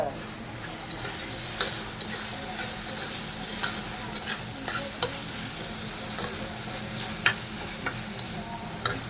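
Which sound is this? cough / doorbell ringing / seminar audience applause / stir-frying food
stir-frying food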